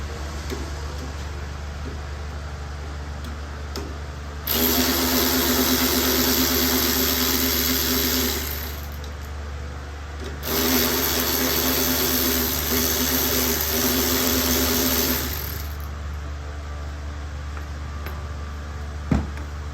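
A power tool whirs loudly in two sustained bursts of several seconds each, close by, removing the rear tank bolts on a 2007 Kawasaki ZX14 motorcycle, with a low steady hum between the bursts.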